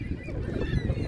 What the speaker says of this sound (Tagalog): naglalabasan na rito yung mga sari-saring duck